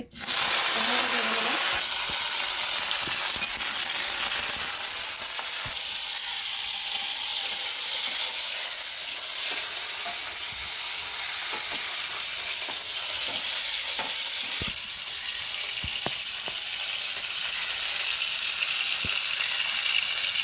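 Crabs frying in hot oil in a wok give off a loud, steady sizzle and hiss that runs the whole time, settling slightly after a strong start.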